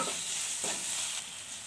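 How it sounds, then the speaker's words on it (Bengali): Chopped tomatoes and green chillies stir-fried in hot oil for a rohu fish kalia, giving a steady close sizzle with soft stirring scrapes throughout. "এবার এগুলোকেও খুব ভালো করে কষিয়ে নেব।"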